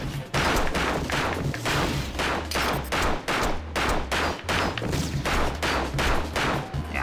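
Rapid, repeated shotgun blasts from a video game set in Rengoku: The Tower of Purgatory, about a dozen loud bursts spaced roughly every half second over a steady low hum, with no voices.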